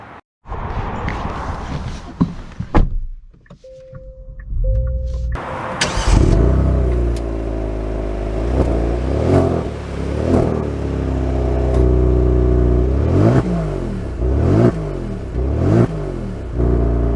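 A 2023 Genesis G70 3.3T sets off and accelerates, its engine rising in a loud, continuous growl with repeated swells as it pulls through gears, following a brief quiet moment with a faint tone.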